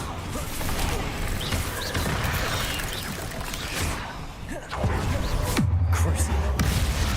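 Confringo fire spell explosions in the Hogwarts Legacy video game, dense crackling blasts and thumps in a busy battle, with a heavy boom near the end, loud and continuous under occasional speech.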